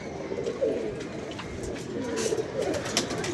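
Pet pigeons coo nearby in soft, repeated throaty rolls over a light background hiss.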